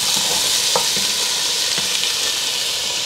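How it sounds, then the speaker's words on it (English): Three tablespoons of butter melting in a large pot over medium-high heat give off a dense, steady hiss of sizzling, close and continuous, with a few faint clicks. "I just added in 3 tablespoons of butter. We're gonna let that melt before we add in all of our veggies."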